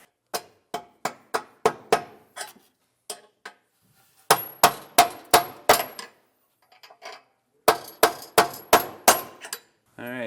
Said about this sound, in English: I'm gonna have to use a punch and a hammer to get mine in a little bit more